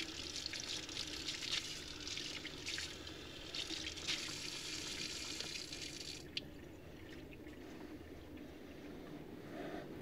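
At a lab sink, a faucet streams water over small container caps being rinsed. The gush stays constant for about ten seconds, with one sharp knock partway through and no talking.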